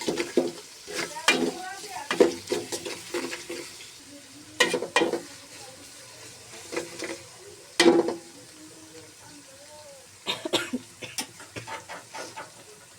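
Vegetable noodles with salt being stirred in a pan, with clattering spatula scrapes in irregular bursts over a faint sizzle, close up and with no talking.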